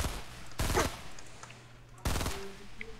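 Two loud bursts of gunfire in Fortnite, each a short rapid rattle of shots, separated by a second or so of quieter game sound.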